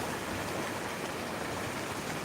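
Seawater gushing up through holes in coastal rocks, a steady, faint broadband rush of churning water that continues without a break.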